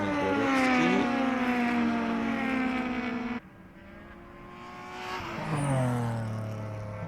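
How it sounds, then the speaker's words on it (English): A Fiat Seicento touring race car in a Baltic touring car race drives past with a strong revving engine whine, pitch dropping as it passes, followed by another engine note rising and falling. "It's a Fiat Seicento."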